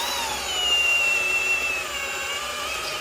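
A power drill whirs steadily for a few seconds, a brief higher-pitched whine rising in the middle before settling back, as a drill bit marks a center point without drilling through.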